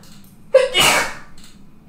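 One loud, close sneeze with a sharp intake followed by a forceful burst, from a streamer playing Escape from Tarkov. A quiet room surrounds it and no one speaks.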